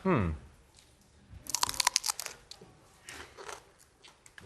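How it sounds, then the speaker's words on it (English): A raw Brussels sprout is bitten, a short burst of crisp crunches followed by a few quieter chewing cracks, close and fairly soft, with a brief voice at the very start. "a good crunch noise"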